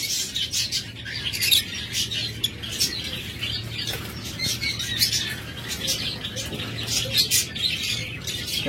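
A pair of imported budgerigars with closed leg rings chirps and twitters continuously, with bright, rapid overlapping calls and soft fluttering over a steady low background hum.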